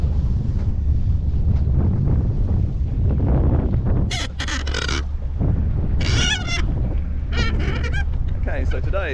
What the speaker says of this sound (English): today is nice and choppy, blowing about a 12 to 15 knot wind coming from the north